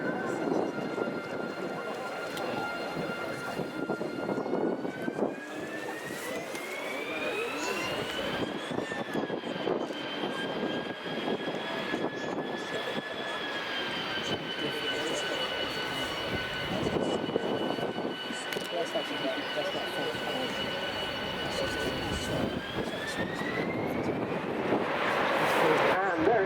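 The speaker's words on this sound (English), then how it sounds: "there it goes, the Spanish Navy, EAV-8B Matador 2+" A Spanish Navy EAV-8B Matador II Harrier jet takes off at an air display in the rain, giving a loud, sustained engine whine that climbs in pitch. Wind buffets the microphone and people talk over the jet.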